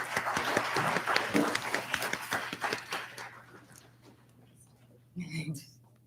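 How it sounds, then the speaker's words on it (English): Audience at a Richmond Heights candidate forum claps for a candidate, brisk applause of many hands that fades out after a few seconds, followed by quiet and a brief voice. "let's give her a round of applause"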